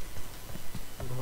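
Horse hooves clip-clopping in PUBG Mobile during a Payload Mode match, a few soft irregular thuds close by, mixed with game noise and a faint voice.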